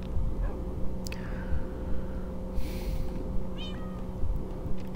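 Cat meowing in the video game Minecraft, several short meows at an even distance, clear above a steady bed of game music with no talk.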